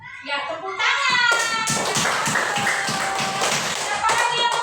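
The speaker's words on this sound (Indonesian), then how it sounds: "Ya, tepuk tangan." A class of young schoolchildren claps together in a classroom, a burst of quick, uneven hand claps close by, with children's voices chattering over and around it.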